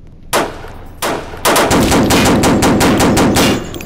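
Loud gunfire in a Roblox shooter, two separate shots and then a rapid, steady burst of automatic fire that continues to the end, close and dominant with no talking.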